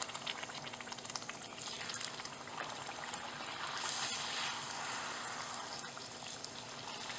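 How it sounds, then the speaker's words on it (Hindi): Puris deep-frying in hot oil for pani puri: a faint, steady bubbling sizzle runs unbroken throughout, with no voices over it. "तो इस तरह से हम सारी पूरी को फ्राई कर देंगे।"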